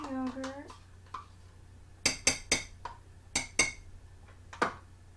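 A spoon clinks against a pot while yogurt is stirred into tikka masala, giving several bright metallic taps in uneven clusters, with a voice talking briefly at the start.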